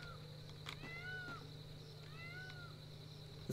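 Two clear meows from a cat in a video game, each a short bending cry about a second and a half apart, heard alone over a constant low background hum.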